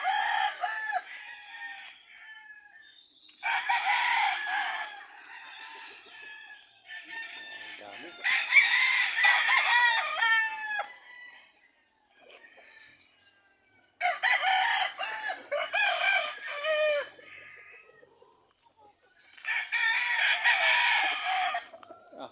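Chickens cluck and a rooster crows loudly at close range, in repeated bursts separated by short pauses.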